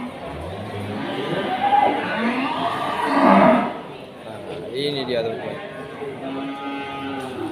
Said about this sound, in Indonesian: Nah, sapi-sapi besar untuk di hari ini.